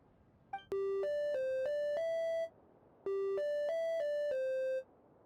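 A machine in Genshin Impact plays musical tone prompts: two clear chiming phrases of about five bell-like notes each, stepping in pitch, separated by a short silence.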